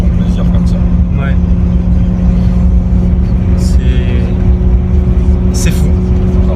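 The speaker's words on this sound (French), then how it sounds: "Tu accélères sur 200-300 mètres, tu passes de rapport, ça chante." A Maserati GranTurismo S engine drones loud and steady from inside the car while accelerating, with a constant tonal hum, as people talk over it throughout.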